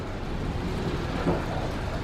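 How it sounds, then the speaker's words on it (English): Rain mixed with a little snow falls in Juneau, Alaska, by a cruise ship wharf, making a steady, soft broadband hiss that stays fairly faint throughout, with no voices. "And it's like snowing a little bit in with the rain."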